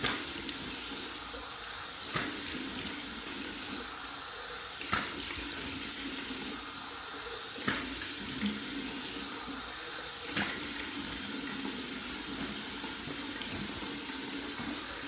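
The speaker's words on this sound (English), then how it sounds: "I'm gonna do my final 2 rinses, one warm, one cold, right from the tap" Warm water runs steadily from a bathroom tap into a partly drained sink during a wet shave rinse, a continuous close splashing stream with a few brief louder knocks and no talking.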